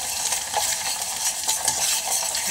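Dried red chillies, cumin and mustard seeds fry in hot oil with a steady, dense sizzle. Stirring scrapes come through close and continuous, and no one speaks.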